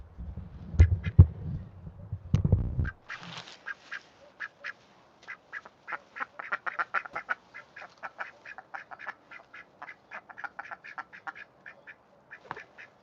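Pet ducks in a garden quack in a rapid run of short, close calls, with a rustling, bumping burst of feeding noise at the start and the quacking continuing steadily after it.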